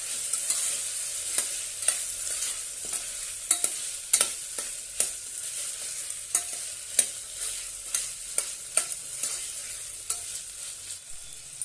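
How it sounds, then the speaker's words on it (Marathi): Vegetables for veg pulao are sautéed in a pan, giving a steady soft sizzle punctuated by regular sharp scrapes and clinks of a spatula stirring against the pan. "आणि छानपैकी परतून घेऊया"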